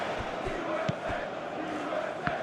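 Steady stadium crowd roar from the video game eFootball PES 2021, a broad continuous hum of massed fans at a United States versus Spain match, with a few brief thumps and swells. Commentary-style voices talk over it.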